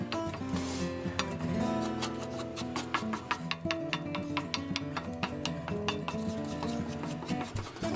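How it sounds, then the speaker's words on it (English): A frittata egg mixture being stirred in a pan, with rapid repeated scraping and clinking of a utensil against the metal over a faint sizzle, close and continuous, with no talking. "You can see it immediately starts to curdle a little bit. So just give it a good mix."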